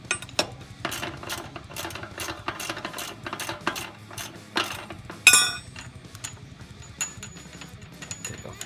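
A ratchet wrench clicks rapidly while loosening the axle nut on a Harley Sportster wheel, close and repetitive, followed by a sharp metallic clink and a few lighter taps.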